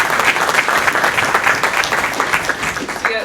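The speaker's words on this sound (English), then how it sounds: "So give her an applause" Burst of audience applause for a freshman student, dense steady clapping from a room full of people for a few seconds.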